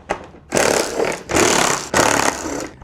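A power driver spins out the 7mm screws from a Ford tow mirror housing in three loud, close whirring bursts, each lasting under a second with short pauses between.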